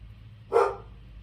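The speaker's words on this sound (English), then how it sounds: "excuse the dogs" A single short dog bark, fairly close and clear, over a low background hum.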